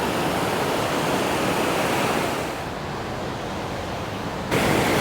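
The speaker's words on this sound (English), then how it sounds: "enjoying the pure power of this waterfall" A powerful waterfall in the Desolation Wilderness above Tahoe roars close by as a dense, continuous rush of falling water, loud and steady throughout with a brief dip in the upper hiss.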